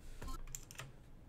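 A few quick computer keyboard key presses, faint soft clicks in a brief burst with no talk.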